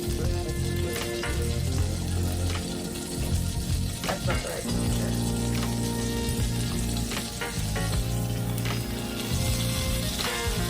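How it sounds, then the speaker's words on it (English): Steady hiss and crackle of a pork chop frying in butter in a hot pan, continuous and close, with someone speaking briefly over it. "I'm gonna put one of these pork chops in there and listen to how it sizzles"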